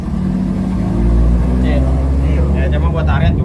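A bored-up Honda Vario 125 scooter engine with an aftermarket exhaust hums and revs steadily nearby, while someone talks over it.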